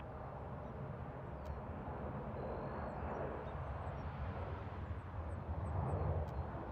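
Airplane at Toronto airport, a broad steady jet roar heard at a distance, faint and continuous with a slight swell toward the end, and no talk.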